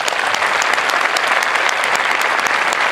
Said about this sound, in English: please join me in giving our veterans a round of applause